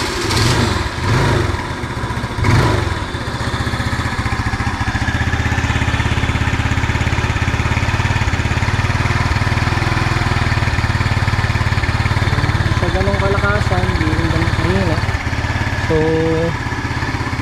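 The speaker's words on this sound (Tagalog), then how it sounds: "So, kaya sound check natin. Tingnan natin kung ano nga ba ang tunog ng tambucho" A Keeway SIP 125 motorcycle idles steadily right after starting, its exhaust giving a loud, continuous low throb that stays close and unbroken for the whole stretch, with a few brief higher tonal sounds near the end.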